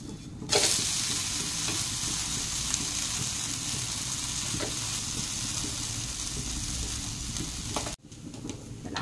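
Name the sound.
bhagar (barnyard millet) dhirde frying on the second side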